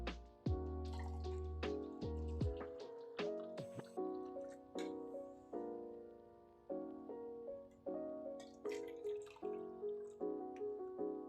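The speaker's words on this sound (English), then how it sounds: "So now we will add milk in each." Milk is poured into glasses for a sky-blue milkshake, a quiet series of separate gurgling plops and glugs that rise in pitch as each glass fills, with no voices.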